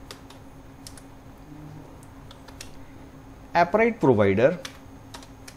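Keys clack sporadically on a computer keyboard while code is entered for a Flutter Appwrite app, faint scattered taps under a quiet room before someone speaks.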